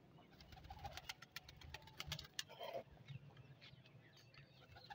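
Pigeons gather near a water dish, giving faint, soft coos and low murmuring calls among light rustling and tapping, all very quiet and close by.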